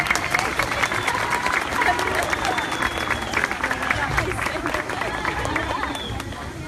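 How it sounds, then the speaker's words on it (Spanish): Applause from a crowd at a religious gathering, a dense steady wash of clapping lasting throughout with crowd noise and voices mixed in. "aplauso, por favor"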